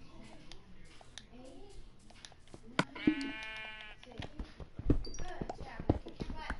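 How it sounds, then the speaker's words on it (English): A single sheep bleat from Minecraft, a wavering mid-length cry near the middle, is heard among game clicks, footsteps and thumps while a person talks quietly over the gameplay. "Let me go get that sheep."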